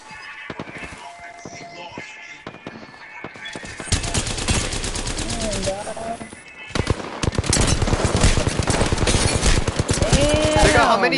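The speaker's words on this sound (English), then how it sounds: "How many shotgun shots are you gonna take?" Rapid bursts of gunfire in a video game shootout, loud and dense, clustering into sustained volleys over the second half, with players' voices talking underneath.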